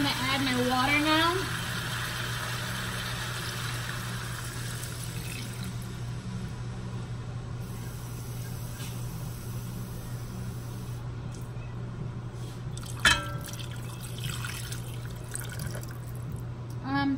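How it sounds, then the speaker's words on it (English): Water runs steadily into a cooking pot on a stove for cauliflower rice, a continuous close splashing pour over a low hum, with someone speaking briefly at the start and a clink near the end. "I'm going to add my water now."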